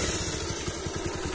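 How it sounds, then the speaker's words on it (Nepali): A motorcycle engine idles near an iron bridge in Pokhara, a steady close chugging with an even rhythmic pulse and no talk. "भाइले चाहिँ बाइक लिइराख्नु भएको छ यहाँनिर"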